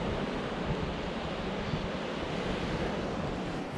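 Constant roar of Black Sea surf washing ashore at Odesa, a broad steady rush with wind noise buffeting the microphone and no voices.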